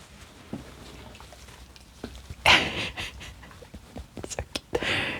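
A puppy pants and snuffles softly up close while getting scratched, with quick breathy bursts, light rustling and scratching noises.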